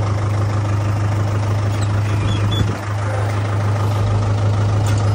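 A tractor engine pulling a loaded trolley runs close and loud with a steady low throb, holding an even drone with a brief dip partway through.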